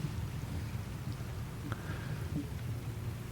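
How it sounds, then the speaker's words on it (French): Background rain and wind ambience plays in a tabletop role-playing game session set on a cold, rainy beach: a steady hiss of rainfall over a low, rumbling wind bed, with no talk. "il commence à pleuvoir. Un froid mordant vous saisit, il y a du vent. Et il pleut."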